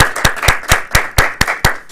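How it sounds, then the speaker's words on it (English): Toastmasters club members applaud their Toastmaster at a meeting: sharp, evenly spaced claps, about eight or nine in two seconds, close and loud, sounding like just a few people clapping in unison. "Let's have a round of applause for our Toastmaster today, Rick Davis."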